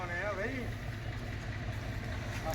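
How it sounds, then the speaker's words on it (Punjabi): A parked tractor idles nearby in a low, even rumble, while someone talks over it. "ਟਰੈਕਟਰ ਮੇਰਾ ਸਟਾਰਟ ਖੜਾ ਹੈ"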